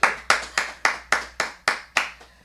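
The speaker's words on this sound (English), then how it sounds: "give her a round of applause" A steady run of about eight loud, sharp hand claps, evenly spaced and close by, with no talking.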